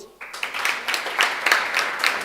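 Audience applause for a jury member at a debate event, a short burst of clapping with distinct hand claps audible, building quickly and holding steady at moderate loudness.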